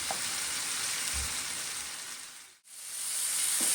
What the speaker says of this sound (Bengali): মশলাটা আমার প্রায় একটু ভাজা ভাজা হয়ে এসছে।